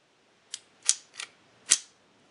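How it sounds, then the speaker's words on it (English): Magazine dropped from an SW22 pistol fitted with a Halo charging handle and Game Changer compensator: four sharp metallic clicks and clacks, close and distinct, separated by quiet gaps. "Go ahead and drop the mag."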